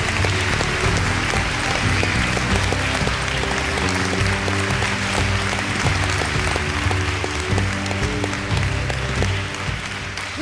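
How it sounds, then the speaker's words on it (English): An audience gives a warm round of applause for a pianist and songwriter, dense steady clapping filling the whole stretch while sustained musical tones play underneath. "will you help us give them a very, very warm round of applause?"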